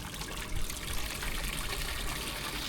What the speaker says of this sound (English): Still going down there. It's still pumping out the side.